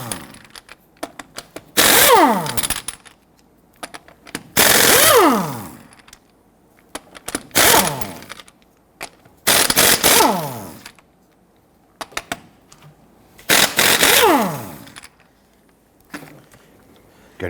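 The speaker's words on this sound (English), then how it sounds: "I'm going to go ahead and loosen and remove our lug nuts." Impact wrench on a 19mm socket loosening and spinning off the front wheel lug nuts of a 2006-2010 Hummer H3, in five loud separate bursts of rapid hammering each about a second long, with quiet pauses between them.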